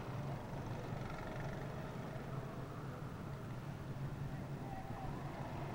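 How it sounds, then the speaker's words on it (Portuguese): Racing kart engine accelerating down the final straight of a kart race, a steady droning motor tone that stays constant throughout, with a commentator's voice running over it. "Tá aí o líder da prova, Fernando, pegando a reta da vitória, acelerando, botando potência no motor"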